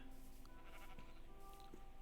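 Sheep bleat in a modded Minecraft world, a couple of short bleats heard faintly over background game sounds.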